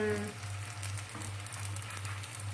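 Stuffed vegetable msemmen, Moroccan flatbread-style crêpes, frying in a pan. A faint, steady sizzle hisses over a low constant hum.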